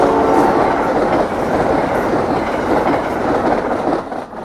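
A high-speed passenger train rushes past on the Keystone Corridor between Coatesville and Harrisburg, a loud, close, continuous roar of wheels and wind that eases slightly at the end, with no voices.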